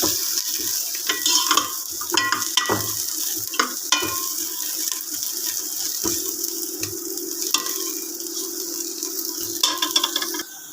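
Tempering (tadka) sizzles steadily in a pan for a pumpkin curry, with a constant frying hiss and occasional clinks and scrapes of stirring, close and loud with no talk.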